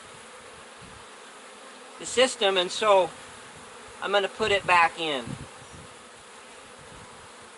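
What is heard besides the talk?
honey bees buzzing on a hive frame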